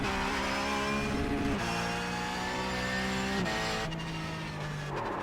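A car engine in a sim racing video game revs and accelerates with rising and falling tones as it shifts through gears, loud and continuous, with faint tire noise.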